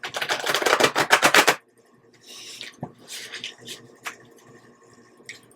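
Tarot cards being shuffled, a quick rapid-fire flutter of riffling cards lasting about a second and a half, followed by quieter soft shuffling and handling sounds up close.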